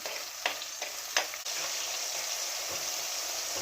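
Tomato frying in a pan while making fish curry, a steady close sizzle with a few stirring scrapes early on, continuous and fairly loud.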